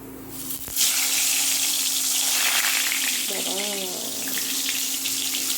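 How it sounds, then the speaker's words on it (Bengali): Eggplant slid into hot oil sets off a sudden, loud sizzle that keeps hissing steadily up close, with a brief tonal voice-like sound partway through. "এখানে তেলটা গরম হয়ে গেছে এবার বেগুনটাকে ছেড়ে দিই"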